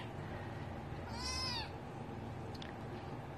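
A rescued mother cat gives a single clear, drawn-out meow over a steady low background hum, fairly close but not loud.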